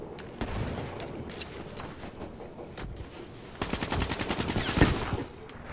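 Gunfire in a Call of Duty match, scattered single shots early on, then a rapid automatic burst of steady repeating cracks near the end.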